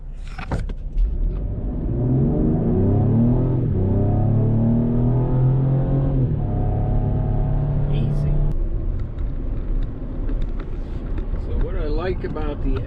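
A Ford Taurus SHO engine rumbles and climbs in pitch as the car accelerates hard, a rising drone that peaks and then eases off into quieter road noise.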